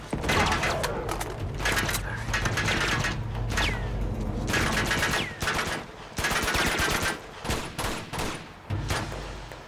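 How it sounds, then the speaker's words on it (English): Rapid gunfire bursts in the Uncharted 2 video game, dense and loud throughout with short pauses, mixed with game sound effects. "I think that Elena and them are shooting him."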